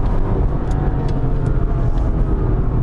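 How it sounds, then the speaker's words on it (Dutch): Supercharged V8 of a 2006 Mercedes-Benz E 55 AMG Combi under hard acceleration, a steady loud engine roar with a thin compressor whine riding over it, continuous and close throughout. "Ja, je hoort die compressor een beetje janken."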